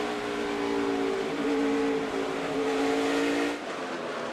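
NASCAR race cars accelerating off a corner at a night race, a steady loud roar of several engines with rising whine, continuous and close, easing slightly near the end, with no talk.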